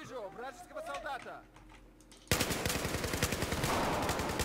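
Battlefield 4 on PC: after a brief stretch of voice and quieter game sound, a loud burst of sustained automatic rifle fire from a Type-95B-1 erupts and keeps rattling in rapid, even shots close up.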